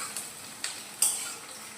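Sliced onions and chopped green chilli sizzle softly in a pan for pasta, a brief hiss marked by two or three light clicks of a spoon against the pan.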